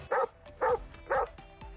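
A dog barks in the largest park in Santiago, Chile, giving three short, evenly spaced barks fairly close by, followed by lighter yips and faint background noise.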